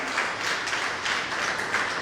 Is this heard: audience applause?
yes